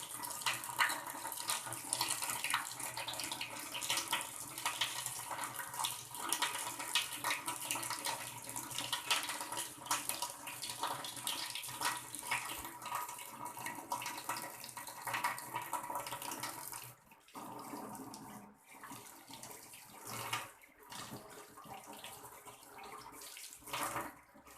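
Tap water runs steadily from a faucet during a handwashing routine at a sink, a continuous broadband rush that is close and fairly loud, then breaks up into splashes and pauses toward the end.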